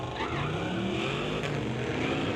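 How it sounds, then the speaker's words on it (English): A re-bodied 1982 square-body Chevy truck with a 454 roars steadily at a drag-strip launch, its tires spinning without grip. The engine noise stays loud and continuous, with a faint tire screech mixed in. "Tire spin all the way for that square-body Chevy, just can't hook it up."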